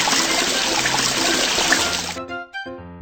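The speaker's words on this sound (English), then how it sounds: "Turn on the faucet." A faucet turned on for hand-washing laundry, water gushing steadily and loudly for about two seconds before cutting off abruptly, followed by a brief tonal sound.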